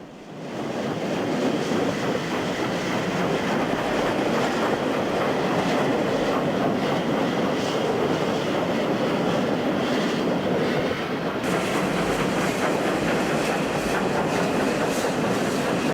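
Steam locomotive Pendennis Castle picking up speed on the down fast line, a continuous loud rumbling roar with rhythmic rail clatter running unbroken throughout.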